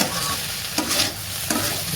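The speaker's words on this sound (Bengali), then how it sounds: "বেশ খানিকক্ষণ কষিয়ে নিয়েছি পেঁয়াজ কুলিটা" Onion shoots with garlic cloves being stirred and sautéed in a pan, a steady close sizzle broken by a few scraping stirs of the spatula.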